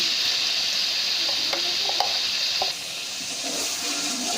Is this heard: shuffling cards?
no